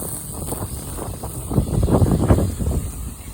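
Wind blows outdoors in Palawan, a steady rushing hiss with low buffeting gusts against the microphone, swelling toward the end.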